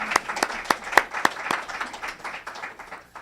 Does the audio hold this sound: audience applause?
yes